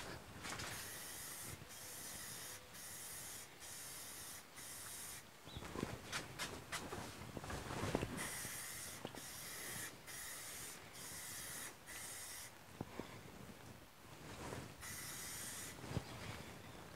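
Aerosol spray paint hissing onto the hood of a Troy-Bilt MTD 17.5 hp 42-inch Pony lawn tractor, in repeated close bursts of a few seconds each with short gaps between them.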